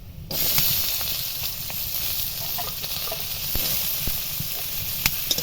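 Chopped potatoes sizzle steadily in a hot pan with fried onion, nigella seeds and dried chillies, a close continuous hiss broken by occasional scraping stirs and small clicks.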